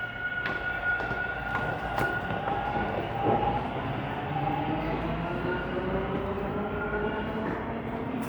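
A Toronto subway Line 2 train moves along the platform at Yonge Station downtown, giving a sustained rumbling roar with high tonal whines and a few sharp clanks, loud and close throughout.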